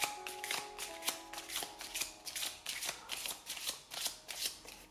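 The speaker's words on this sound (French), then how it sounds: "Moi, je bats les cartes délicatement." A deck of oracle cards is shuffled gently by hand, a soft, close, rhythmic riffle repeating about a dozen times with no talk.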